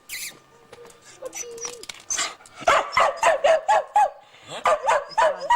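A pet dog barks excitedly in a run of loud, close yips and barks that come in quick bursts, with a voice talking before them.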